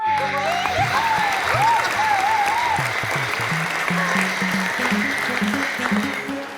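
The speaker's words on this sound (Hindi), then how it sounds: "तालियां बजा दो" A studio audience claps steadily for several seconds, a dense wash of applause at a comedy show with a bright musical sting and rhythmic background beats playing underneath.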